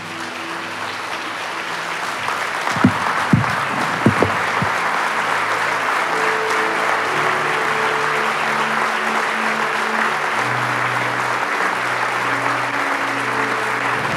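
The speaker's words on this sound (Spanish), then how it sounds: "Póngase de pie y dele un aplauso fuerte al Señor." A church congregation stands and claps loudly for the Lord in a long, steady wave of applause, with a few sharp louder claps early on and sustained tones from music or voices running underneath.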